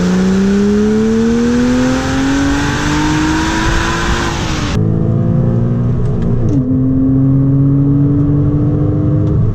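A Porsche Cayman 987 with a 2.9 naturally aspirated engine revving hard during a road test, its pitch climbing steadily through the gears. A gearshift breaks the rise briefly before the rising engine note resumes, loud and close, with no voices.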